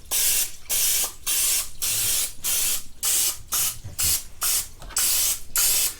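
Pam cooking spray hisses into a donut pan in about ten short, even bursts separated by brief pauses, close and clear with nothing else audible.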